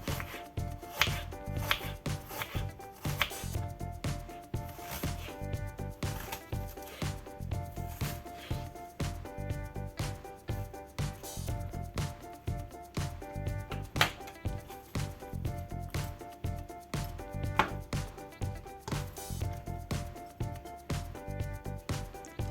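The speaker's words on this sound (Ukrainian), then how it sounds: "Далі беремо цибульку і також будемо її нарізати під кільцями." A knife chops steadily through an onion, slicing it into rings on a cutting board, quick regular strokes continuing throughout, with light music playing underneath.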